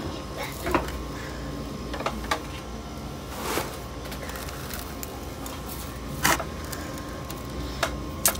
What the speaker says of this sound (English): Sorry about the noise of the air conditioner.